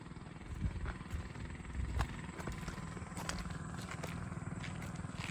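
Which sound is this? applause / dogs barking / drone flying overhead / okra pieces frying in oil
drone flying overhead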